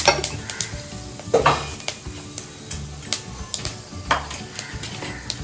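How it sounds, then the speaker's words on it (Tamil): Fennel seeds sizzle in hot oil for a goat intestine and blood fry, a steady close crackle broken by a few sharp clinks of a utensil against the pan. "நான் லைட்டாக சோம்பு தான் போடுவேன்."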